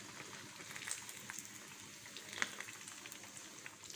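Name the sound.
rohu fish frying in hot ghee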